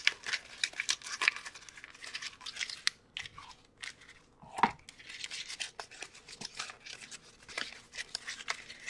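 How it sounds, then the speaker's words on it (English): Cardstock being crumpled by hand at close range, a dense run of crinkling, crunching bursts with brief pauses, loud and alone. "wouldn't it be cool to just crumple this up"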